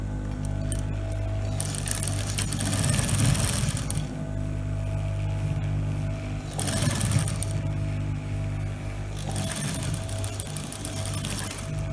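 A sewing machine top stitching a skirt pocket, running in three bursts of whirring stitching separated by short pauses, close and steady, with no talking.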